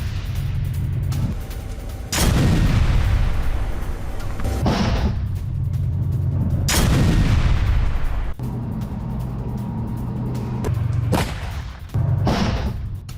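A Russian T-90 tank fires on targets in a war zone, with several loud, close booming blasts at irregular intervals over a constant rumbling engine background.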